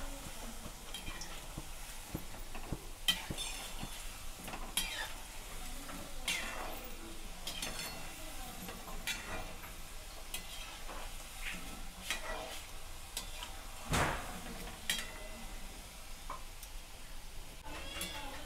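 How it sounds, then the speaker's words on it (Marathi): Shankarpali, a crisp Diwali snack, frying in hot oil while being flipped and stirred, with a steady close sizzle and hiss, scattered scraping taps of a utensil against the pan, and no voices. "आता आपण शंकरपाळ्या पलटी करून घेऊया."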